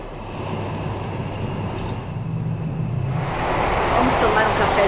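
Rumble of a train interior while riding a train in Norway, a continuous rolling noise with rattling that grows louder toward the end, with voices talking over it.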